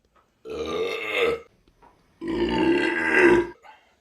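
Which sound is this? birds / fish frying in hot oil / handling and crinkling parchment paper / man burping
man burping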